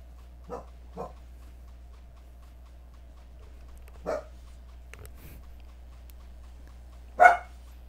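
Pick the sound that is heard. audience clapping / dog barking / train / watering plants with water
dog barking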